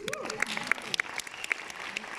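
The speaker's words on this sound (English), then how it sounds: "Round of applause to doTERRA" Audience at a doTERRA leadership retreat in Amsterdam giving a short burst of scattered applause, with sharp individual claps standing out over a talking voice.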